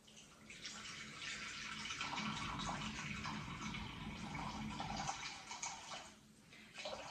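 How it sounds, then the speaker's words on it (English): Room-temperature filtered water pours steadily into a bowl for sourdough bread dough for several seconds, a continuous splashing rush that briefly thins out near the end. "you're going to actually put in your filtered water"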